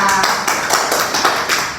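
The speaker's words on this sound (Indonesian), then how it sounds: "Beri tepuk tangan buat Mita" A classroom group claps for a student, a short burst of dense, overlapping hand claps from several people close by that keeps up evenly for under two seconds.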